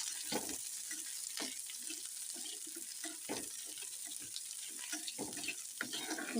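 Curry leaves and tamarind fry in hot oil for tomato chutney, giving a steady, close sizzling hiss broken by soft clinks and stirring scrapes, with no talk over it.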